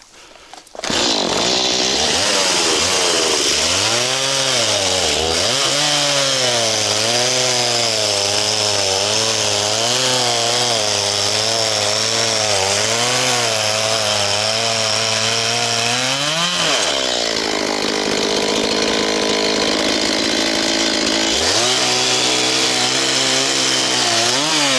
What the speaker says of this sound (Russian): Пильнем сейчас досочку.